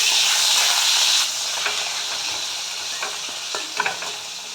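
Potato pieces fry in hot oil in a pan for a mixed vegetable dish, giving a steady close sizzle with a few scraping stirs.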